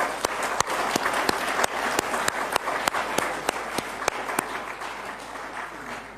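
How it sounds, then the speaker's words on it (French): An audience at a ceremony with Emmanuel Macron applauds two eminent CNRS researchers. Sharp, evenly spaced claps ring out over a continuous wash of applause throughout. "Qu'ils se lèvent pour qu'on les laisse applaudir."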